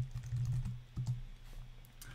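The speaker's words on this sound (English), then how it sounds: "I highlight it and simply start typing the suggested change." Keystrokes on a computer keyboard as a suggested edit is typed into a document, a quick run of soft clicks with short pauses, close and moderately quiet, with no talking.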